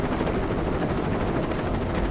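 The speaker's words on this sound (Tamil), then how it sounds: "என்ன மேலே ஹெலிகாப்டர் வருதா?" In a video game, a helicopter flies overhead with a loud, steady rotor chop and a broad engine roar that fills the whole moment without pause.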